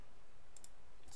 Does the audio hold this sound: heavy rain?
no